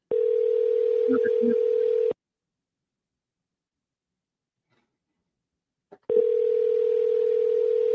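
A telephone call rings out unanswered, two long steady tones separated by a few seconds of silence, loud and clear through the handset line.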